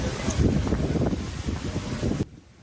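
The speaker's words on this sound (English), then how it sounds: "we're seeing wind gusts up to 45 miles an hour" Strong coastal wind gusts of up to 45 miles an hour in the San Francisco Bay Area, roaring and buffeting the microphone loudly and steadily for about two seconds before cutting off abruptly.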